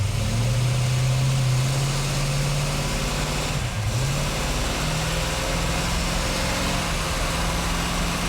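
A sleeper Ford Granada runs on a chassis dyno with its exhaust closed, a fairly quiet steady engine drone holding a constant pitch, dipping briefly midway before settling back, no talking.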